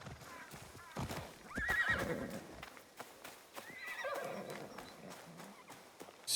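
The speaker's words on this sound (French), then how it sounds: "on va prendre notre poney." A pony in a video game neighs and whinnies over clip-clopping hooves, close and clear, with two whinny calls a couple of seconds apart amid steady hoofbeats and faint background talk.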